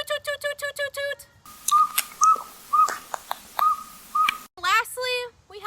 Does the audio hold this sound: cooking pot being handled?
no